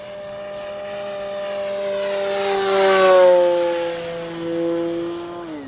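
A propeller-driven RC model airplane flies toward the listener and past, its engine drone rising in loudness and pitch, then dropping as it moves away, alone with no talk.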